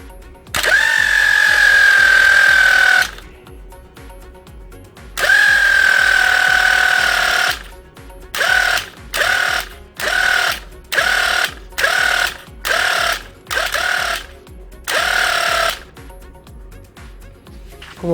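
A car starter motor wired directly to the battery spins freely on a bench, a loud whirring whine that rises in pitch, running in two longer bursts and then many short, rhythmic bursts with brief pauses between.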